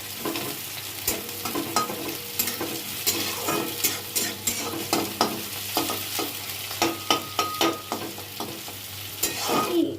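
Onions for a soybean chop fry in a pan while a spoon stirs them, giving repeated scraping strokes over a steady sizzle, close and fairly loud.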